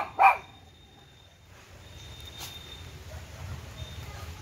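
A dog gives one sharp, fairly close bark at the start, followed by quiet outdoor ambience with a faint hiss.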